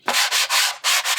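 Green sanding paper rubbed over a painted surface, heard up close as about five quick, loud scratchy strokes in a steady back-and-forth rhythm, with no voices.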